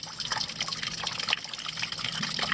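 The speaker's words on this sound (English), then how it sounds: "So that's the water running out into the pan." Coolant water drains from the radiator of a 2005 Ford Transit van into a drain pan, a steady close splashing trickle with no talking.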